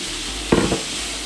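Mushrooms and asparagus stalks being stir-fried in a pan for Korean-style fried rice, a steady background sizzle with one short scraping stir lasting under a second, close and fairly loud.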